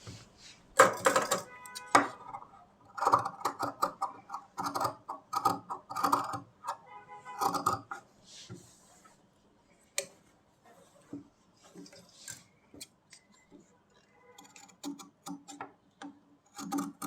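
Scissors cut fabric for a kurti neckline, a run of close, crisp snipping bursts in short clustered rhythms, separated by brief pauses and fainter isolated snips.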